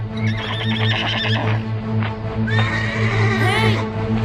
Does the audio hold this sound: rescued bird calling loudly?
no